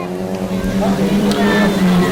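Hot rod cars race around the oval at the All Ireland Hot Rod Finals in Ballyduff, West Waterford, their engines droning loudly in a steady mix while a commentator talks over the action.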